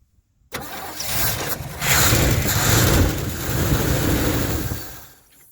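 A Caprice 4x4 project car's engine cranks after a moment of silence, catches and runs with loud, uneven surges of revving for several seconds, then cuts off abruptly.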